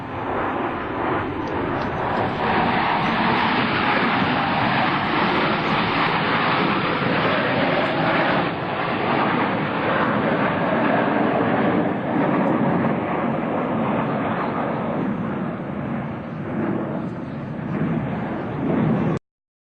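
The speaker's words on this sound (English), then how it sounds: "From the right, the Blue Angel Diamond." US Navy Blue Angels diamond formation of four jets passing at an airshow, a continuous loud broadband roar that holds steady throughout without any talk.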